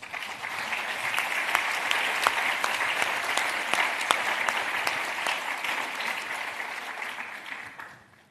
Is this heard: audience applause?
yes